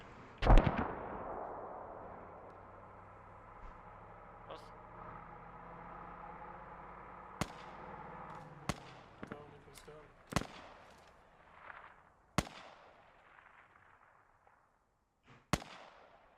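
Mortar and gunfire in the military video game Squad: a heavy blast opens, then a run of sharp, separate explosive cracks and booms goes off at uneven intervals at varying distances over a low rumble, with some faint voices.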